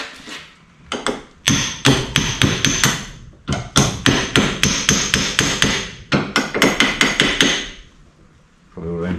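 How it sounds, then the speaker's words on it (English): Repeated sharp hammer blows, near and loud, drive a part onto the crankshaft of a Yamaha XS650 engine during a rebuild, coming in quick bursts of several strikes with brief pauses between groups and no talking. "Then I'm just going to start it with a hammer."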